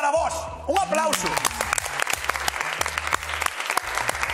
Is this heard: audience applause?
yes